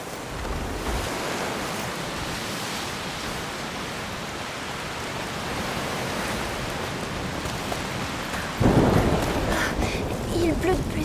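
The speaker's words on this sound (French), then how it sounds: "Il pleut de plus en plus fort." Dense, steady hiss of heavy rain pouring down in the video game A Plague Tale: Requiem, swelling louder near the end with a rumble like distant thunder.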